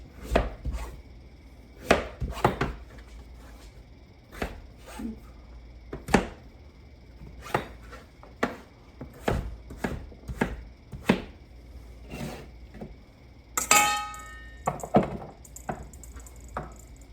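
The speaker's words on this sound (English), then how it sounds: "We want 2 cups of diced squash." Knife dicing butternut squash on a cutting board: sharp, close thuds in uneven bursts, sometimes several quick chops then pauses, with a brief clatter near the end.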